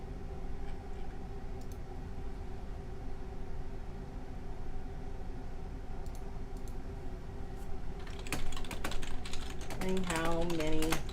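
Computer keyboard typed on for a Discord chat: a low steady room hum, then a burst of quick, close keystroke clicks in the final few seconds.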